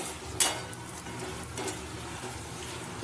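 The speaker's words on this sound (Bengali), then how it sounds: "ঝোলের মধ্যে মাছগুলোকে দিয়ে একটু কিছুক্ষণ নেড়ে নেবো, যতক্ষণ না তেল ছেড়ে আসছে" Small mourola fish being stirred in thin curry gravy in a pan until oil separates, with soft continuous sizzling and scraping close by, a few brief clinks, and no talk.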